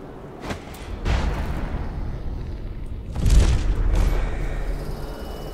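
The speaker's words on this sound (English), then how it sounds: "It sounds like the shooting's coming from over here." Distant gunfire rumbles in Dishonored: The Brigmore Witches, a couple of muffled booming bursts rolling over steady background ambience, with no talk.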